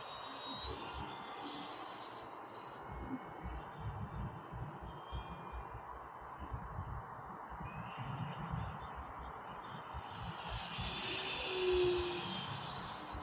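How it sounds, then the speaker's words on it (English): An E-Flite Air Tractor model airplane buzzes overhead, its propeller whine fading and swelling at moderate distance over faint wind rumble, growing louder toward the end. "It's a good prop sound."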